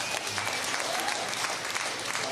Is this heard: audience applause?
yes